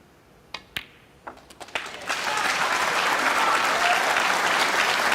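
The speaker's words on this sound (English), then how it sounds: "The crowd are getting behind him." An arena crowd at a Champion of Champions snooker match breaks into sustained applause during a 147 break, starting with a few scattered claps that swell into a loud, steady wash of clapping.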